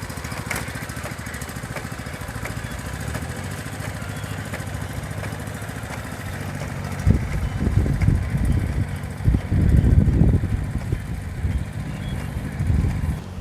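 A small engine of a new four-row walk-behind rice transplanter runs steadily with a chugging, mower-like drone, growing rougher and louder with bursts of mechanical clatter in the second half.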